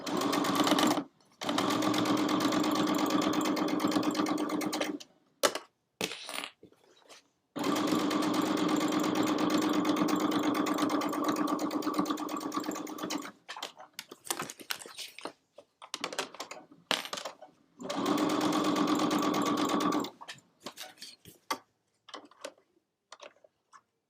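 Sewing machine stitching a fabric stocking in three long steady runs of fast mechanical whirring, separated by brief pauses filled with small clicks and handling noises.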